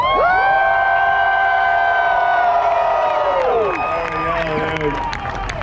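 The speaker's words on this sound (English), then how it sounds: "the loudest you can scream." A loud crowd at the 2021 Freedom 500 race screams and cheers continuously, with high whooping voices rising together and trailing off near the end.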